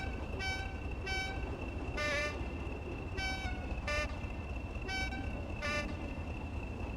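A train horn in the Train Sim World 6 simulator, on the nuclear cargo line, sounds a series of short, loud blasts at two alternating pitches over a steady low engine rumble.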